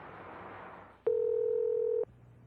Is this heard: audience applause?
no